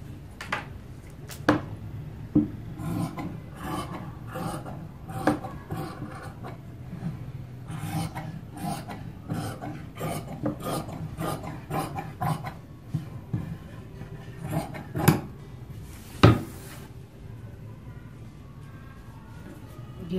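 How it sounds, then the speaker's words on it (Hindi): Scissors cutting through cloth for a frock shoulder, a series of close rasping snips and rubs at an uneven pace, with a few sharper clicks along the way. "तो ये हम नाप कर 8 इंच का शोल्डर काट लेंगे"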